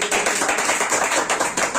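A crowd gives steady, loud applause to welcome newly selected Agniveer candidates at an Army Bharti 2023 recruitment gathering, with dense clapping lasting throughout.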